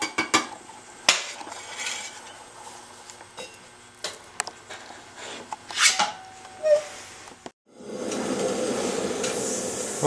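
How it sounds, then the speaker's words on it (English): A metal scraper smoothing a freshly thrown clay bowl on a spinning pottery wheel, heard as close scraping and clinking strokes with small knocks, ending in a steadier rushing whir. "Use my scraper."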